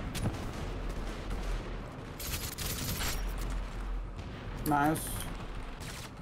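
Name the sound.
gunfire in a video game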